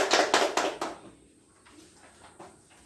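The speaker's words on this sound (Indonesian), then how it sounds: "Mari kita tepuk tangan." Children in a classroom clap hands together in a short burst of several loud claps, which then fades to a quieter room with a few scattered sounds.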